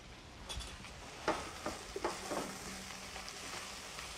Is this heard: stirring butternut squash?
yes